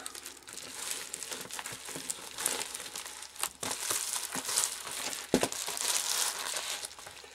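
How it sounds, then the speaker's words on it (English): Adhesive tape being rolled and pressed over the folded seam of a homemade bag cozy, giving a steady close crinkling and rustling with a few sharper crackles, no voices. "Just fold it in half and just roll the tape right over."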